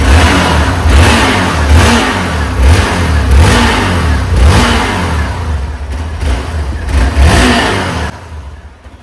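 Hero Xpulse 200 4V motorcycle fitted with a full-system exhaust, revved repeatedly from idle in loud, close bursts that rise and fall in a steady rhythm before settling at the end.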